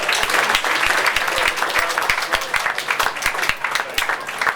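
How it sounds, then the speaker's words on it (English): An outdoor crowd at a tank museum gives volunteers a steady round of applause, dense overlapping claps sustained at an even, fairly loud level throughout with occasional sharper individual claps. "Give them a round of applause."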